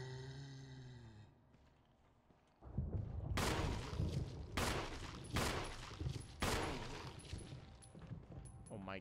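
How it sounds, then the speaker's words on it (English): Gunshots in the Resident Evil video game: several loud, sharp blasts at roughly one-second intervals after a quieter stretch, with a synthetic tone heard first. "How many shots are you gonna take, bud?"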